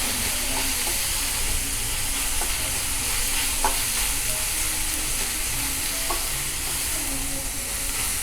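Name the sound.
onion frying and being stirred in a pan over high flame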